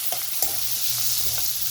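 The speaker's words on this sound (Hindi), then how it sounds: "अब मैं डालने लगी हूँ आलू जो मैंने मैश करके रखे हुए हैं" Mashed potatoes go into a hot pan for a dosa filling and get stirred, giving a steady close sizzle broken by a few scraping strokes and soft thuds, with no voices.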